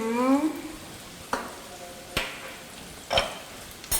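Curry powder fried and stirred in a pan for a taro (madumbe) chutney: a few separate scraping knocks of the spoon spaced about a second apart over a faint low sizzle, with a brief voice at the start.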